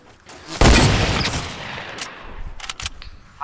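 Fortnite gunfire: a sudden loud burst of shots followed by a decaying rumble, then a few fainter sharp cracks farther off, with no speech.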